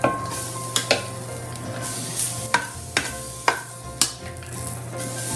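Green beans tossed into a hot pan, making a steady sizzle broken by sharp scraping and clattering stirs against the pan, close and loud with no talking.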